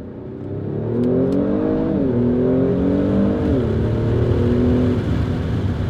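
Through open rear windows, the engine of a Kia Stinger GT drones and climbs in pitch as the car accelerates, with a clear dip at each gear shift. The sound stays loud and steady with no talk.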